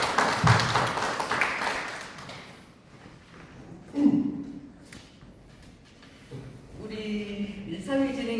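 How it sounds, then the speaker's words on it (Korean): At a cooperative founding meeting, a short burst of clapping from the gathered members rises at the start and fades, followed by people speaking. "박수."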